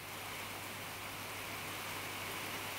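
Heavy rain shower falling over a garden pond, a steady faint broadband hiss that holds evenly throughout with no talk.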